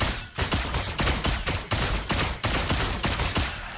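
Claude's lightning rapid-fire gunshot skill in a video game crackles as a quick volley of about a dozen sharp, evenly spaced shots, loud and continuous with no pauses.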